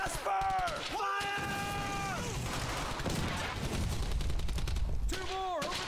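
Bursts of gunfire in the World War II shooter game Brothers in Arms: Hell's Highway ring out with rapid rattling shots, loud and near, under shouted voices.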